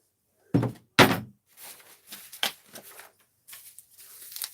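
A scuffed refrigerator door piece with a hinge is handled, giving two sharp close thunks followed by softer knocks and rattling, with no talking.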